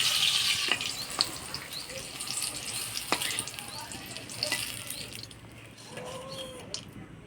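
Vegetables being lightly fried in a pan for a Bengali vegetable dish, a steady close sizzle with scattered stirring clicks and scrapes running throughout, with water or tap sounds briefly near the end.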